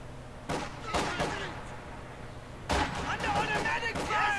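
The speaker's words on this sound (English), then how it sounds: "Under automatic fire!" Automatic gunfire in Company of Heroes 2 comes in a few sharp, heavy bursts spread across the moment, under battlefield ambience and voices calling out.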